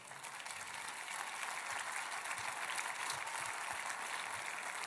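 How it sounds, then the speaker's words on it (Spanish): A congregation in a church service applauds to the glory of the Lord, a sustained, fairly quiet wash of many hands clapping that swells slightly and holds steady, with no voices heard. "Dale un aplauso de gloria al Señor."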